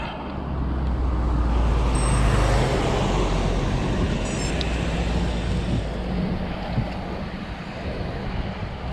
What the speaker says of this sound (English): Constant stream of traffic.